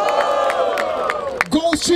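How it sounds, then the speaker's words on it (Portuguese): A crowd at a rap battle event in Barueri, São Paulo, roars with loud cheers, whoops and shouts in one dense, close swell of voices. "Barulho para as rimas do CH e do AJ!"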